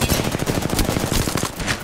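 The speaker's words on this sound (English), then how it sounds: "Why is this gun on semi-auto?" Rapid bursts of gunfire from a gun on semi-auto in the Apex Legends battle royale game, a dense run of loud, closely spaced shots filling the whole moment with no talk.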